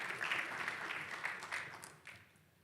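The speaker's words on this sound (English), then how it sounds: "Please give him a big round of applause." Applause from a conference audience in San Francisco welcoming a speaker, a moderate crowd clapping steadily for a couple of seconds before thinning out and fading, heard at a distance in a large room.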